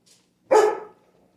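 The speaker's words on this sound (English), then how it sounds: "Sorry, my dog's barking." A single sharp dog bark, close and loud, preceded by a faint brief noise, then quiet.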